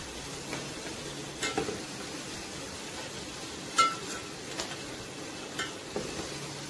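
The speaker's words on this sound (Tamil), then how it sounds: "இப்போ வந்து ஃபிஷ் ஃபிங்கர் நல்லா எண்ணெயில் ஃப்ரை ஆயிடுச்சு, கோல்டன் ப்ரௌன் கலரில் வந்துடுச்சு" Fish fingers frying in hot oil give a faint, steady sizzle with scattered soft ticks and pops, plus a light clink now and then.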